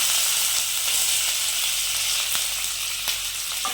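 Sliced onion frying in a pan of hot oil for a chicken kondattam, a loud steady sizzle with bright crackling and occasional faint stirring clicks, close and continuous throughout.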